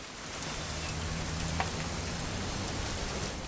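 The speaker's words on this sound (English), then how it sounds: "It's gonna rain the whole weekend" Steady rain pours down in the video game What Remains of Edith Finch, a dense, even hiss that holds at a constant level for the whole stretch with no voices.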